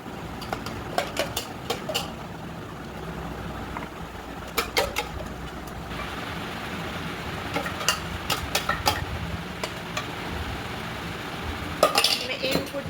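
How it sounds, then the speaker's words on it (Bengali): Plates and bowls are set down one after another on a kitchen counter, producing several sharp clinks and clatters spread across the stretch, with quiet room noise in between. "তিনটে প্লেট সাজিয়ে নিলাম তিনটে বাটি"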